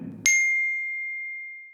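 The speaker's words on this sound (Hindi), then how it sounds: "सिर्फ एक नोटिफिकेशन" Single clear phone notification ding, a bright chime that strikes once after a short low rumble and rings out with a long, slowly fading tail, heard alone.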